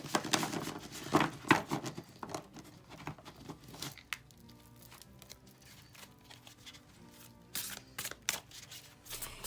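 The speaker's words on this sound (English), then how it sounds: "You can see they really do beautifully overhand" Close, crisp patter of an overhand shuffle on a tarot deck, papery card riffles in quick irregular bursts that thin out midway and pick up again at the end, over faint background music.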